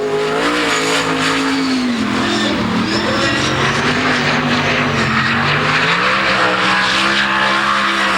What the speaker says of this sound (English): This is a real interesting sounding car, folks. I'm going to lay back just a little bit and let you listen to it.